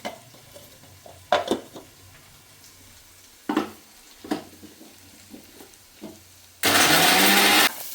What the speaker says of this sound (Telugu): నాలుగు వెల్లుల్లిపాయ రబ్బలు వేసుకుంటున్నాను ఇప్పుడు ఇవి కూడా మిక్సీ పట్టేసుకుందాం